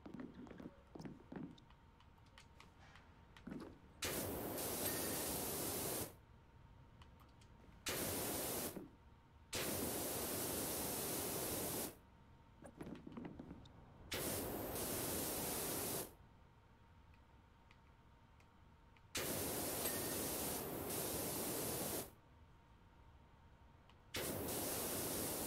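Pressure washer spraying in Powerwash Simulator while cleaning a helter skelter: loud bursts of hissing, rushing water noise lasting a few seconds each, repeating with short quiet gaps between.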